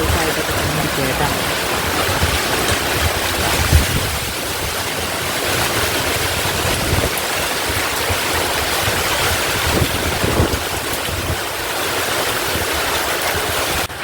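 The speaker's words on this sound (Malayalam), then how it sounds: "രാവിലെ തന്നെ നല്ല കാറ്റും മഴയാണ് കേട്ടോ" Strong morning wind and rain roar as a continuous broadband rush, close and loud throughout, with occasional gusty swells and faint bumps.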